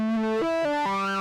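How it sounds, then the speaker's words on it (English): A synth tone with resonance runs through a distortion effect, giving a buzzy, harmonically rich note that steps through several pitch changes in quick succession, loud and alone. "adding fuzz or distortion to something like this on a synth can kind of give you these like weird responses"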